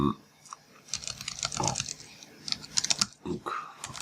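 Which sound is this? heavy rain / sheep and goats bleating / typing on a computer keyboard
typing on a computer keyboard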